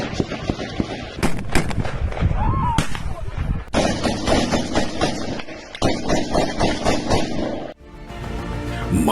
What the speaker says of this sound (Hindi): पहाड़ों से जारी गोलीबारी, बेबस इंसान जिंदगी हारी।